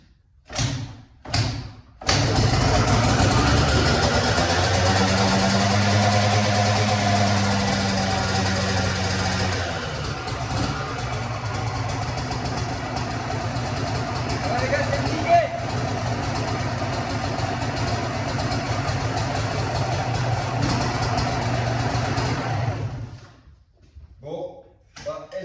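Motocross bike engine starting after a kick and running, a couple of sharp thumps first, then a loud, steady buzzing idle that drones on and shifts pitch midway before cutting out near the end.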